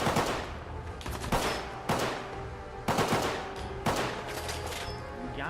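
Repeated bursts of automatic enemy gunfire in a Fallout 4 firefight, loud and close, with several sharp volleys spread across the stretch and no talking.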